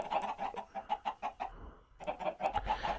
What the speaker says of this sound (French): Les poulets, vous saoulez, hein.